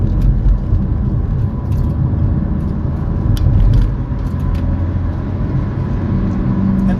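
A Ford Escort Mk5 LX turbodiesel engine pulling through the gears, a loud, close, steady diesel drone and rumble from inside the cabin with faint clicks and rattles.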